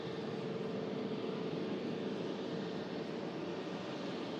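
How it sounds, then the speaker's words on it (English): A Pegasus Airbus A321neo departs Manchester Airport with a steady, distant jet engine roar that holds at an even level throughout. "Here's the the Pegasus Neo A321 aircraft."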